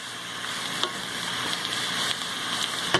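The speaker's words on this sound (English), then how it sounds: "Let this here finish frying off." Continuous bright crackling and sizzling of jambalaya ingredients frying in a pan, with occasional small clicks and pops, no voices.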